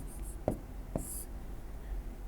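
A pen scratches on paper while a mathematical proof is written. Faint, close strokes sound in a couple of short bursts over a quiet room tone.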